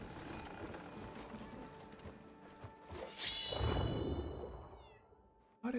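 Cats meowing in a town in the video game Crimson Desert, a couple of meows rising over soft ambient game sounds, with a clopping of hooves and a brief chime near the end.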